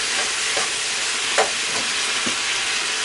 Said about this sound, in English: I'm going to add some red wine